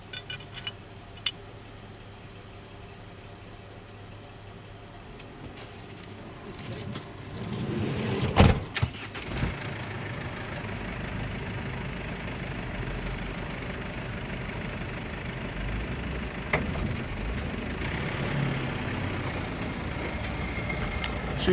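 Engine of a DIY Porsche camper idling, then swelling into a steady, rumbling drive as it starts moving outdoors in the desert, with a sharp knock partway through and people talking over it.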